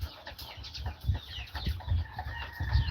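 White leghorn cross chickens cluck and chatter repeatedly at close range on a farm, with several birds overlapping in an uneven, busy rhythm and no talking.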